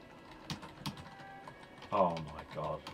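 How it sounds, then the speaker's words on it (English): Typing on a computer keyboard while programming a Commodore 64 game, heard as a few sharp scattered clicks, with a brief voiced sound and faint background music partway through. "typing is awful."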